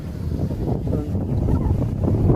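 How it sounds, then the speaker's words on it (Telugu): Strong coastal wind buffets the microphone on a beach along the Srikakulam–Visakhapatnam shore, a loud, continuous low rumble with gusty swells and faint surf beneath. "గాలి మాత్రం చాలా ఎక్కువ ఉంది"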